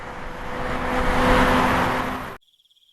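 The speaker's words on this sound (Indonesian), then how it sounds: "Kebisingan lalu lintas." Road traffic noise from a passing car swells into a broad rushing roar that peaks at mid-clip, then cuts off abruptly into near silence.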